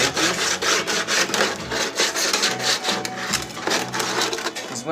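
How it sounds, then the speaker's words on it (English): Sandpaper rubs back and forth along the edges of a thick homemade oil drain pan, a steady close scraping with rhythmic strokes and no talk. "I got a little bit of sandpaper here if you want to make it nice and smooth on the edges."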